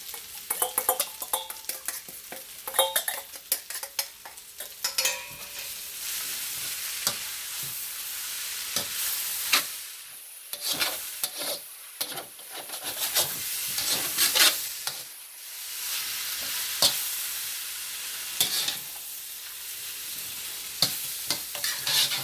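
Chow mein noodles being stir-fried with sauce in a hot pan, a steady close sizzle with frequent scraping and clinking from tossing and stirring all the way through.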